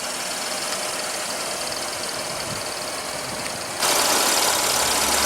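A 2015 Buick LaCrosse 3.6-liter V6 with variable valve timing and direct injection runs steadily, a close, even broadband drone that jumps louder and brighter near the end.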